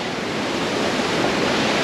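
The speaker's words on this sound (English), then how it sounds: "It's a pretty big waterfall, to be honest." A large waterfall near Ella, Sri Lanka, gives a steady, loud broadband roar of falling water, continuous and unbroken throughout with no voices.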